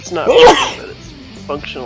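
A single sharp sneeze bursts out close to the microphone during a casual home conversation, and people's voices carry on right after it.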